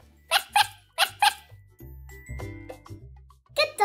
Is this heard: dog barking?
yes